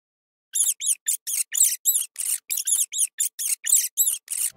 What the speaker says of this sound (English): This sound of the rat is called squeaking.